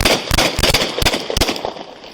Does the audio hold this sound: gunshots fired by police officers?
yes